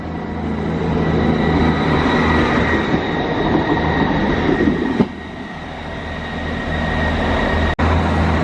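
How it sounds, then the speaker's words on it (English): A train departs Crediton station in Devon bound for Exeter, its loud rumble and wheel noise rolling steadily up close, with a sharp clunk midway and a brief click near the end. "Train leaving Crediton."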